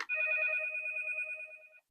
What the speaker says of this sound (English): It'll keep ringing until you put the phone on the hook